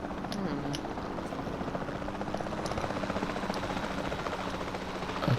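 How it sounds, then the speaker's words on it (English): A capture team helicopter in Jurassic World Evolution 2 gives off a continuous rotor thrum and engine whine at steady, fairly loud volume, with no pauses, and a faint voice or two underneath. "Then the sensible thing is to take a capture team helicopter."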